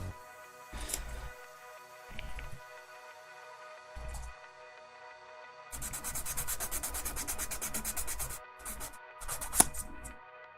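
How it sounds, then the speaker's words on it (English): Repeated scratchy sanding strokes on the sides of a small hard plastic keyboard keycap, short bursts at first, then a longer run of rapid back-and-forth rubbing. "We start sanding away the sides."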